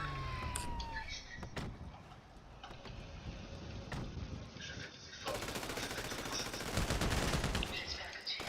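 Rapid gunfire bursts in a RAGE Multiplayer online game crackle through steady ambient noise, with some sharp isolated shots and a denser barrage later on, while a siren-like tone wails faintly in the background.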